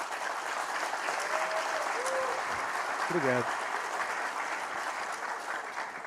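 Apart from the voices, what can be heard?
applause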